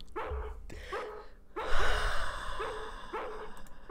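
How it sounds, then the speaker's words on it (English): A dog barking in the horror video game Harvester, several sharp barks spaced through the scene under game ambience, loud and close with a breathy, gasping quality between them. "Once he gets barking, a good piece of meat is the only way to shut him up."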